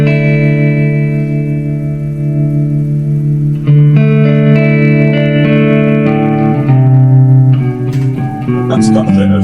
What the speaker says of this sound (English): if you just want to do like the modern reverb on the amp.